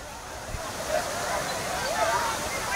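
A waterfall at Kaviyaruvi near Coimbatore, running low on water, makes a steady broadband rushing wash, moderately loud and even, with speech alongside.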